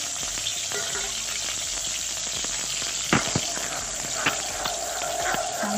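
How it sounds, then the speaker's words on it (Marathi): Crab roe frying in hot oil, giving a close, continuous sizzle with bubbling crackle throughout and a few sharper pops and stirring knocks, no voices. "अशा प्रकारे एकदम चांगले याला फ्राय होईपर्यंत होऊ द्यायचे अंडीचे"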